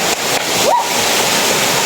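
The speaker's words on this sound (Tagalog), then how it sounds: "Dito na tayo sa talon!" Rushing waterfall at an outdoor swimming spot, a loud, continuous broadband roar of falling water, with a brief shout of voices partway through.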